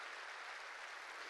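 Steady, dense applause from a church congregation during a Korean sermon, a continuous wash of clapping at even loudness with no voices over it.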